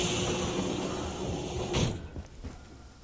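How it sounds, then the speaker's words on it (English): A large hangar door on a spaceship in a video game opens with a loud, steady mechanical roar that carries for nearly two seconds, then cuts off and fades into quieter rumbles. "That door is really too loud."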